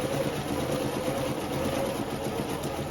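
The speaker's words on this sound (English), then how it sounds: "I'm going to do a little straight stitch" Vintage sewing machine running a straight stitch, a steady continuous mechanical whir with an even low rhythmic hum, moderately close and constant throughout.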